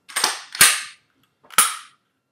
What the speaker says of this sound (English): these are just the very distinguishable sounds of a semi-automatic